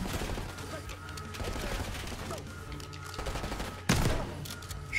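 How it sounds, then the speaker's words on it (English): Shotgun blasts and gunfire ring out in the Black Ops 6 video game campaign, with a few scattered shots and one sharp, loud boom near the end over a busy background of game sound. "Shotgun makes this easier."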